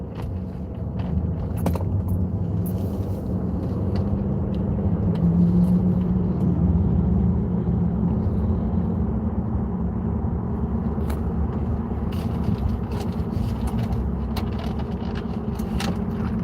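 A car driving through Antioch, Illinois, heard from inside as a steady, loud low rumble of engine and road noise, with small rattles and jingles on top and no speech.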